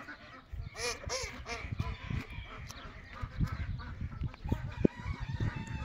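Ducks and chickens, including roosters, quacking and clucking together in a farmyard, a dense continuous chorus of overlapping calls at moderate distance with no talk.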